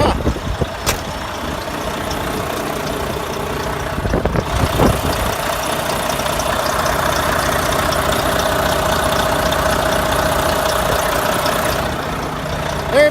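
A 2013 Volvo 670 semi truck engine runs at a steady, rough idle, sounding loud and near with an uneven noise in the engine.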